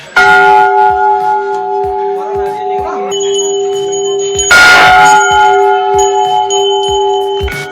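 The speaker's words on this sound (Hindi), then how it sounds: "ये बहुत सारी घंटियां लगी हैं।" Many temple bells hang together at the Chitai shrine of Golu Devta in Kumaon and ring loudly and close, bright metallic strikes layered with long sustained ringing tones, plus a sharp louder clang midway.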